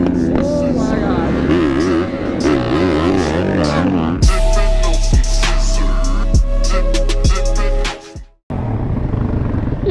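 A 450 dirt bike engine revs and warbles with rising and falling pitch, then settles into a loud, close, steady drone at a racing lot before cutting out abruptly, with speech-like sound over the engine.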